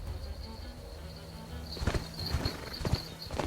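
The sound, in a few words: horse hooves in Age of Empires IV video game cutscene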